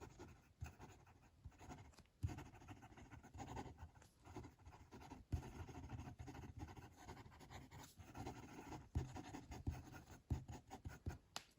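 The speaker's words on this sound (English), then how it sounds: "Quick writing." A Wancher Mine fountain pen scratches quickly across paper in close, quiet strokes, a soft irregular scritching that runs steadily with brief pauses between words.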